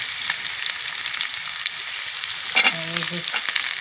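Raw prawns fry with onion and green chili pieces in hot oil, a steady bright sizzle throughout with a brief stirring clatter partway through.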